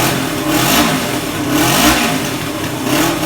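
A Suzuki GS450L classic motorcycle engine revs steadily with a leaking, blowing exhaust, giving a continuous loud drone that swells and eases in slow waves, close by with no talk.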